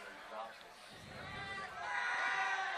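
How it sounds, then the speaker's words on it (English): A homecoming football crowd murmurs and chatters across the field at night, a distant, diffuse swell of voices that grows louder toward the end. "Nice crowd across the way tonight."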